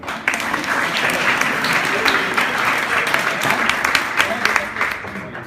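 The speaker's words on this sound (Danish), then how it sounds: "Og klap lidt af hende." A live audience claps steadily for a volunteer named Ulla, a dense, even burst of many hands filling the room for about five seconds with a little chatter mixed in.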